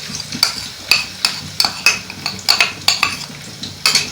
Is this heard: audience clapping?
no